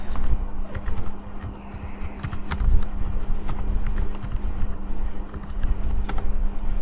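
Steady, rapid clicking of a computer keyboard as MATLAB code is typed, close and continuous over a low electrical hum, with faint bird calls far in the background.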